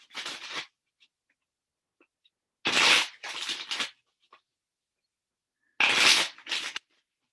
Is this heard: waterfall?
no